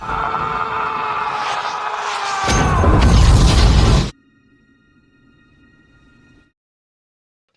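A grenade goes off in a war film battle scene, with a loud sustained roar of blast and debris that cuts off abruptly, leaving a faint low hum followed by silence.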